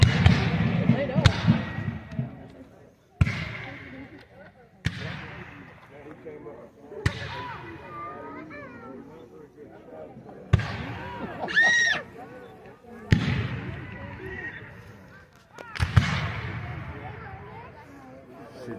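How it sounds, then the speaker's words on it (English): Rifles and pistols fire at a Battle of Olustee Civil War reenactment as sharp outdoor reports, about seven shots spaced irregularly every few seconds, with faint crowd talk and ambient noise between them. "those are just rifles and pistols until they go off"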